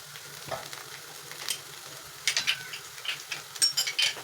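Garlic paste sautés with sweating onions in a pan, a low hiss of frying under scattered spatula scrapes and taps that grow busier toward the end.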